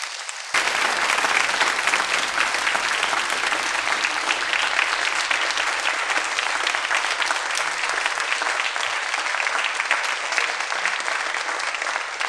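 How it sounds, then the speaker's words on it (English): Sustained audience applause at a middle school winter concert, a dense, steady roar of clapping from a full room that starts abruptly and holds at even loudness throughout. "please give a huge round of applause to Miss Hebert, Miss Dolman, and Mr."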